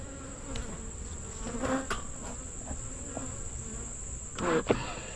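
Honey bees in an opened beehive on a farm, a steady close insect buzz running throughout with a few louder bursts as bees pass near, no talking.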